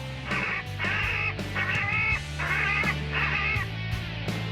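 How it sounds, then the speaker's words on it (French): Bird distress calls broadcast from rooftop loudspeakers to scare birds away at an airport, a series of harsh, cawing crow-like cries repeating loudly over a steady low hum. "un appareil qui permet de diffuser, grâce aux haut-parleurs qui sont sur le toit, des cris de détresse d'oiseaux"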